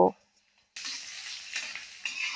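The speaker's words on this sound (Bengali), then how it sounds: "পেঁয়াজ রসুন ভাজার সময় অবশ্যই ঘন ঘন নেড়ে চেড়ে ভাজবেন" A short silence, then a steady loud sizzle of onion, garlic and chili frying in oil, with a few scraping stirs.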